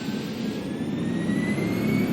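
Jet airliner engines spool up at takeoff in the FlightGear flight simulator game, giving a loud, steady roar with a rising whine throughout and no talk.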